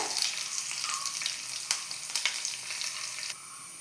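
Fenugreek seeds and sliced shallots fry in oil for a Kerala-style seasoned buttermilk curry, giving a steady, close crackling sizzle with small pops throughout and no talking.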